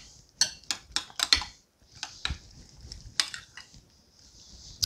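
A spoon stirs blueberry and strawberry fruit salsa in a bowl, giving a run of quick, bright clinks against the bowl, then softer, scattered taps, close by and with no voices.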